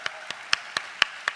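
Crisp handclaps ring out at a 2013 Korean opening worship service, six sharp claps at a steady, fairly even pace with no voices over them.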